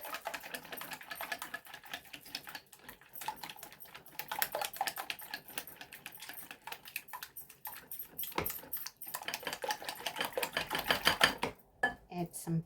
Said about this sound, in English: just give it a whisk